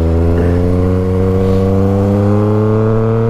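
A Yamaha XSR900 motorcycle engine drones loud and close, a steady buzzing roar whose pitch creeps gradually upward as it revs, with no voices.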